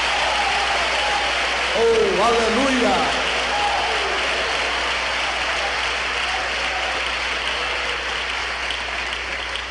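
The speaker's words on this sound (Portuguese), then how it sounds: "Aplausos, aplausos." A church congregation applauds in a steady, dense wash of clapping that fills the whole stretch, while a voice calls out briefly over it near the start.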